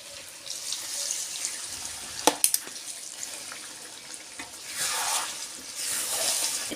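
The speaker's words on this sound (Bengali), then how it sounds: "এবার আমি মশলার জলটা দিয়ে দেবো।" Spiced water is poured into chicken curry cooking in a pot, giving a soft steady splashing and hissing with a couple of sharp clinks from utensils partway through and a swell of rushing liquid near the end.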